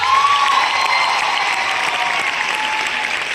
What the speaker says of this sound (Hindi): ताली होना चाहिए दोस्त।